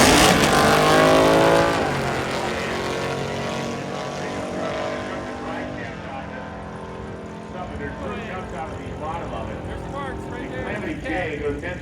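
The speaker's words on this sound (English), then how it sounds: "the pickup truck launched hard and then shuttered and came to a quick stop" A pickup truck launches hard at a Hot Rod Drag Week drag race, its engine roaring loudly at first and then fading to a lower, steady drone with layered harmonic whine.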